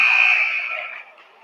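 A loud basketball game buzzer sounds once at the end of a quarter, a single sustained electronic blare that slowly fades out.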